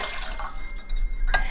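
Water pours and splashes briefly for carnivore bagel dough, a short close trickle into a container with a few drip-like accents.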